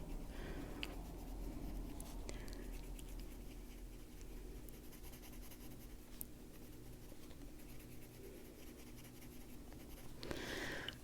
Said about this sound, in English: we might as well blend everything with this pencil